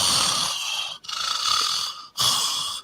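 Loud, raspy breathing close to a microphone during dead air on a livestream rewatch, three long drawn breaths separated by brief silent gaps.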